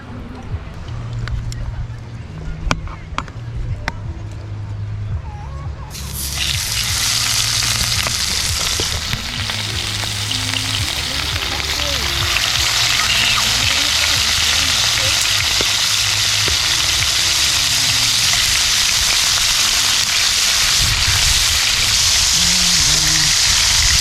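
Food sizzling steadily in hot oil with chopped rosemary, thyme nearby, a loud broadband hiss that jumps up after a quieter start and holds constant, with faint talk underneath.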